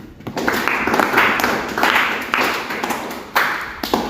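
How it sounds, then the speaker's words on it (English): A classroom audience claps for a student reader, bursts of hand clapping rising and fading in several waves, fairly close and lively, with no talk over it. "Clap for him."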